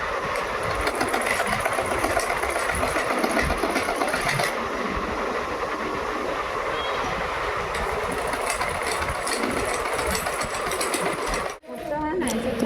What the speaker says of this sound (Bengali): তো আমাদের বৌমা সুন্দর ফ্রক বানাচ্ছে মেশিনে।